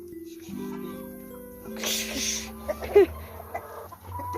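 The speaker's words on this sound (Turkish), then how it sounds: "horozlar var arkadaşlar" Chickens and roosters cluck intermittently at moderate distance in a village over a steady low hum of machinery, with a few sharper calls standing out near the middle.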